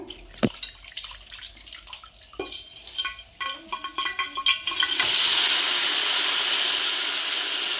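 Raw chicken pieces clatter and shift in a vessel for a few seconds, then a loud, steady rush of running water takes over as they are washed nearby.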